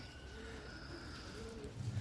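Soft, low coos of a female pigeon drift through a steady background hum, gentle and slightly distant.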